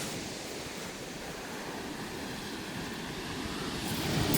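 Sea surf washing and surging back on the shingle of Chesil Beach, a steady broadband roar with constant breaking and dragging water that swells louder toward the end, with no voices.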